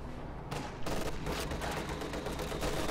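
Dense, continuous bursts of LMG and Maxim machine gun fire from a real-time strategy game battle, rattling loudly and overlapping with rapid crackling reports and no pauses.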